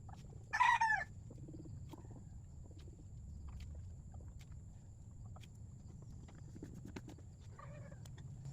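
A chicken lets out one loud, short squawking call near the start and a fainter call near the end, over a steady low background hum with no talking.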